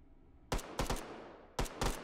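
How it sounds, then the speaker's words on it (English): Bots fire guns in the VR shooter Hot Dogs, Horseshoes & Hand Grenades: four sharp, fairly close gunshots come in two quick pairs, with silence between them. "Oh, and they're shooting at me."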